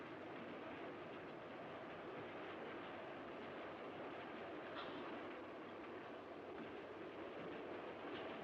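Steady rumble of a passenger train rolling along the rails, a continuous broadband roar with faint rhythmic clatter, heard from inside the carriage without talk.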